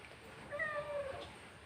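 A pet cat gives one quiet, drawn-out meow that rises and tapers over about half a second, soft and close in an otherwise hushed room.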